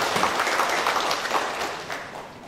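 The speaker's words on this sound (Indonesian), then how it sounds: "Tepuk tangan untuk mereka berdua." Audience applause at a formal regional council swearing-in session, a steady, moderately loud patter of many hands clapping throughout, with no talk over it.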